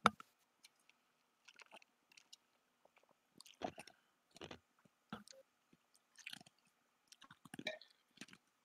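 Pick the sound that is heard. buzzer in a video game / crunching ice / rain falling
crunching ice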